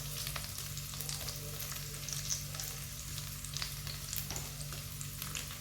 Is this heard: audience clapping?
no